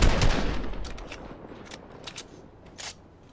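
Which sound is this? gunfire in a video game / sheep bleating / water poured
gunfire in a video game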